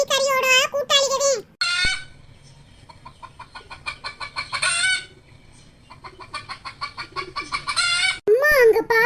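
Chickens cluck repeatedly in rapid bursts, loud and close, with a rooster-like call at the start and end, and voices talking in between.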